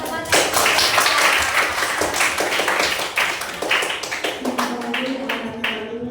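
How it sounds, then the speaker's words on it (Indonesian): Classroom applause for a student's answer, a dense burst of many hands clapping together, loud and close, mixed with children's voices and fading slightly toward the end. "Kasih lagi aplaus"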